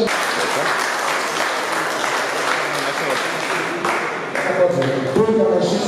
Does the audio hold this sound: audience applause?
yes